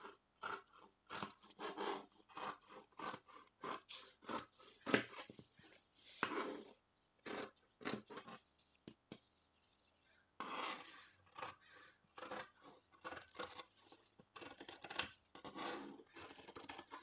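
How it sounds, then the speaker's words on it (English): Scissors crunch repeatedly through four layers of dress fabric while a bodice pattern is cut out, giving close, rapid snips in uneven bursts with one short pause partway through. "Again, I'm cutting from the left, I'm cutting through all those 4 layers."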